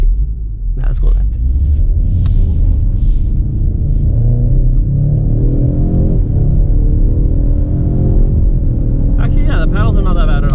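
A 2018 Ford Mustang EcoBoost drives on the road with paddle-shifted gears, a steady loud engine rumble building through the gears with a brief shift near the start, and someone talking over it.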